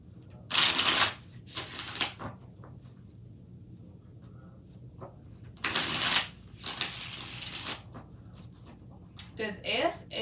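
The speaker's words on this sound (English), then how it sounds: "5 shuffles" Tarot cards being shuffled in several quick, crisp riffles with short pauses between, close and clear, and a voice speaking briefly at the end.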